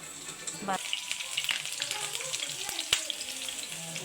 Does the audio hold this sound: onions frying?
yes